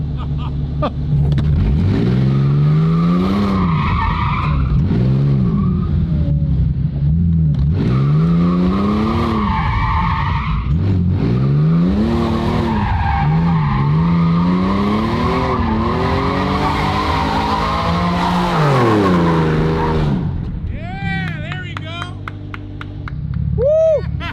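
A Porsche 997 revs hard and skids, its engine note sweeping up and down in repeated surges while the tires squeal loudly and continuously, ending with sharp high squeals as the car settles.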